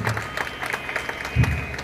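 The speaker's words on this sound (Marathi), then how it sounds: "जोरदार टाळ्या आपल्या या सगळ्या मंडळींसाठी" Brief burst of audience clapping for the organisers at a temple anniversary celebration, moderately loud and scattered, lasting under two seconds with a slight swell near the end.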